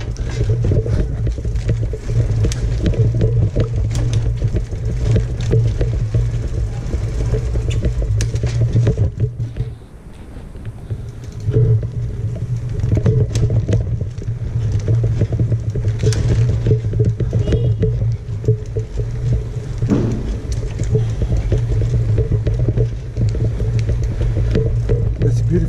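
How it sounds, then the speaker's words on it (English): Continuous low traffic rumble fills a street in the old city of Gela, Sicily, recorded from a moving bike with steady engine and wind noise and a brief dip near the middle. "There are now a lot of traffic and the cars and the noises."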